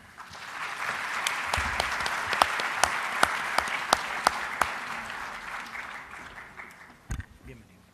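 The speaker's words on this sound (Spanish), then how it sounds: "Recibamos con un fuerte aplauso" A conference audience at an open plenary session applauds to welcome a political scientist to the stage: steady, full clapping with a few sharp, close claps standing out, fading out as a voice briefly takes over at the end.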